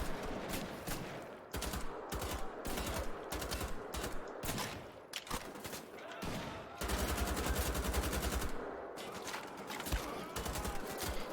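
Rapid bursts of automatic gunfire from Wolfenstein: The Old Blood, loud and dense, with stretches of sustained machine-gun fire and short pauses between volleys.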